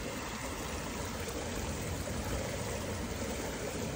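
Water sloshes and swirls in a gold prospecting pan, a continuous close rushing wash with no pauses and no talking.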